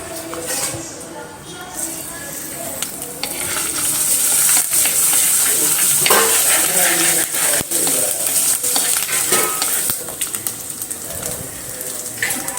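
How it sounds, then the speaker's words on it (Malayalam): Ginger garlic paste fries in coconut oil in a pan for a Kerala small-fish dish, a loud continuous sizzle and hiss with stirring and scraping clatter over it. "എന്നിട്ട് ജിഞ്ചർ ഗാർലിക് പേസ്റ്റ് ഇട്ട് കൊടുക്കാം."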